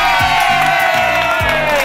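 A classroom of students cheers and whoops loudly together, a dense, sustained roar of many young voices close by for the whole moment.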